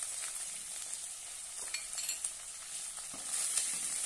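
Turmeric and salt being stir-fried in a pan for sweet corn poha, a faint, quiet sizzle with light, scattered stirring clicks and scrapes and no voices.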